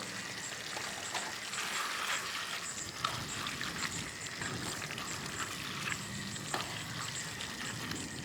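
Cuban picadillo of ground beef with raisins sizzles in a pan, a soft continuous frying crackle with faint stirring scrapes.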